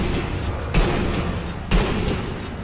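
Two heavy rifle shots from a sniper in Sniper Elite V2, each a sharp boom with a rolling tail, spaced about a second apart over a dense game backdrop.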